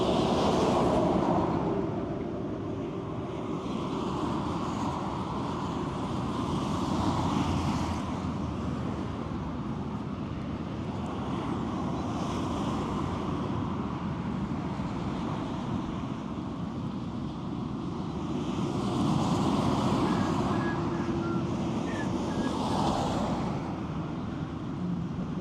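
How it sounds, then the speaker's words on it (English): Wind blows outdoors along a roadside, a steady low rumble buffeting the microphone with slow swells in strength and no voices. "Wind."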